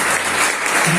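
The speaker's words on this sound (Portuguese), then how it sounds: "Pode dar uma salva de palmas para Jesus?" Church congregation clapping together in a sustained round of applause, loud and dense throughout with no break.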